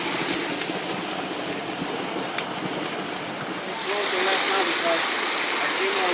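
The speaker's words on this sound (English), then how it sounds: "All this water flowing fast." Fast water rushes through stone channels at the Tipon terraces southeast of Cusco, Peru, making a steady, close roar that grows louder and brighter partway through, while voices murmur faintly underneath.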